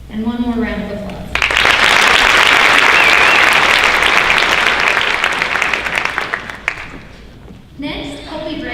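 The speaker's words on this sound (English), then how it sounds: "And one more round of applause." A voice speaks briefly, then a large high school honors night audience breaks into loud, sustained applause lasting about five seconds. The clapping tapers off and speech resumes over the room.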